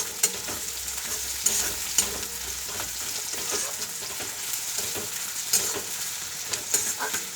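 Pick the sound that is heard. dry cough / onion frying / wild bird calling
onion frying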